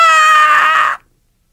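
An over-compressed, squashed tone sounds harsh and buzzy, like a strained scream, at a flat, loud level for about a second before stopping abruptly.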